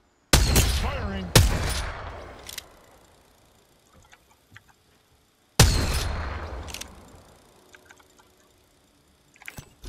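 Two loud bursts of gunfire ring out in a video game, each followed by a long decaying echo, with a few scattered quieter shots and clicks later.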